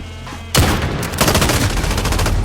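MG34 machine gun in a video game: loud sustained automatic bursts erupting suddenly after a brief quiet moment, continuing densely with a short gap before another rapid volley.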